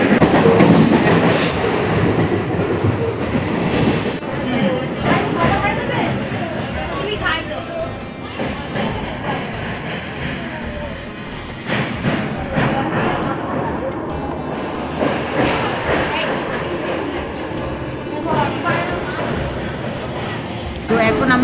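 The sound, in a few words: passenger train running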